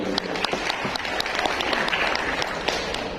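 An audience claps steadily throughout, a full, even burst of applause with scattered sharper claps standing out, at an Indonesian National Teachers' Day webinar on digital transformation in education.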